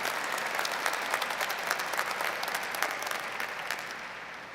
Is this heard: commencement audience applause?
yes